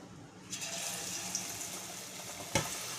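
Capsicum fritters (mirchi bhaji) frying in hot oil, a steady hissing sizzle that swells after a half-second as the battered pieces go in, with a brief clatter near the end; close and continuous.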